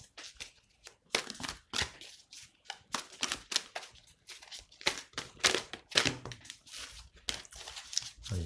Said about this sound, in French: je tire trois cartes de chaque